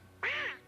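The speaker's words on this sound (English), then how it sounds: "Why, it's the duck. It's Donald Duck." Donald Duck's cartoon voice lets out a single raspy, nasal quack, close and clear, from a 1988 Mickey Mouse 60th birthday special.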